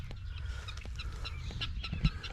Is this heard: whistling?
no